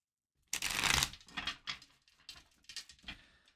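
Tarot cards being shuffled by hand, a dense riffling burst followed by several shorter bursts of card flutter and taps, close and fairly quiet with no talking.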